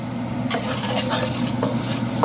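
Cumin, cardamom and turmeric powders sizzle in hot oil while a utensil stirs and scrapes the pan, with a steady close crackle and a few sharp clinks.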